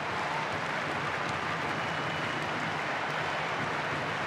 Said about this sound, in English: The applause in anticipation for the final whistle